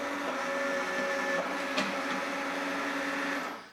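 Tomy Omnibot toy robot's gearbox motor running in low gear, a steady whirring drone with faint gear whine, close by and alone, cutting off at the end.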